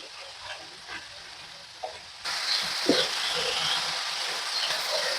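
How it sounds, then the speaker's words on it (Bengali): Chingri greens being stirred with other ingredients in a frying pan, a quiet scrape at first, then a louder, steady sizzle and frying hiss with spatula strokes, close by and with no voices. "তো খুব ভালোভাবে সমস্ত কিছুর সাথে শাকটাকে মিশিয়ে নেব।"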